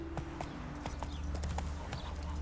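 Geralt's horse Roach galloping in the video game Witcher 3, a steady rhythmic clip-clop of hooves, moderately close, over a low rumbling game ambience.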